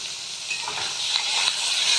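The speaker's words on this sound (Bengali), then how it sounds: "আর সাথে আমি 8-10 কোয়া রসুন দিয়ে দিলাম কেটে।" Chopped garlic cloves sizzling in a frying pan, a steady, close, bright hiss of hot oil with light stirring scrapes and no voices.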